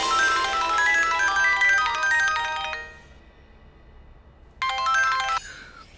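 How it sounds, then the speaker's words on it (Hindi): A phone rings with an incoming call, a bright melodic ringtone playing loudly, stopping, then starting again before cutting off. "हेलो इशाना, थैंक गॉड यार तुमने फोन किया"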